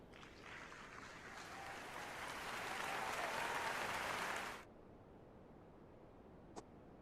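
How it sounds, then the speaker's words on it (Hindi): A college youth audience applauds at a talk and Q&A session. The clapping is steady and fairly faint, swells for about four and a half seconds, then stops abruptly, leaving quiet room tone and a single small tick. "तालियां हो जाए सबके लिए।"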